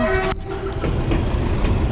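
A train on the PNR railway line rumbles past nearby, with a steady broadband roar, a brief horn tone at the start, and faint rhythmic clatter from the wheels.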